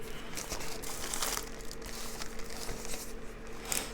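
A plastic tortilla bag being handled at close range, giving a steady, quiet run of crinkling and rustling that lasts throughout, with a few sharper crackles and no talking.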